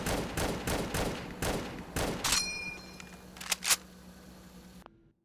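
A rapid volley of gunshots rings out in the game Destiny. The volley ends with a bright metallic ping as an M1 Garand clip ejects, followed by a couple of later shots, then silence.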